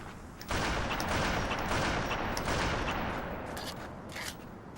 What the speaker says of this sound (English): I was heading toward the gunshots